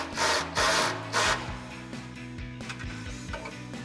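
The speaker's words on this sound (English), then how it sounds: "we're going to grab our 18mm shallow socket on our ratchet and our 18mm wrench" An 18mm shallow socket on a ratchet tightening bolts on a Jeep Wrangler JL heavy-duty rear bumper, with a few loud rasping ratchet bursts followed by quicker, fainter clicking strokes.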